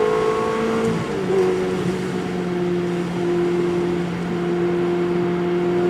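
A Ferrari on the road: a steady, fairly loud engine hum from inside the cabin with sustained tonal drone, rising slightly in pitch early on, then holding an even cruising note under road noise.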